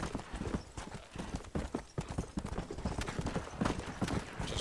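Horse hooves gallop in the Western video game Red Dead Redemption, a dense, loud, rapid clip-clop rhythm that continues throughout.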